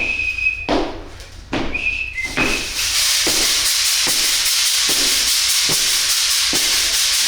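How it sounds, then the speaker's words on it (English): A drum workshop leader blows a whistle to start a maracatu drumming group at a community centre, with several short shrill blasts early on, followed by a steady hissing wash and faint thumps. "So if I have to start with the whistle."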